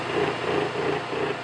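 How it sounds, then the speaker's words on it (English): Metal lathe running steadily as a boring tool touches off inside a stainless steel ring, a continuous even motor hum and whir without distinct cutting bursts. "Here I'm just touching it off on the inside so I can zero the lathe."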